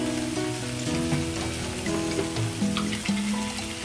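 Potatoes and capsicum fry in a pan with a steady, dense sizzle, with faint stirring and occasional clinks on top. No one speaks.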